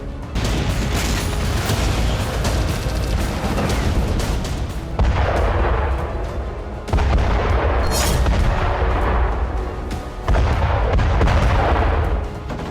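A Ukrainian tank fires shells in war footage: loud, heavy booms and blasts come in several bursts separated by brief drops, with sustained rumbling between them.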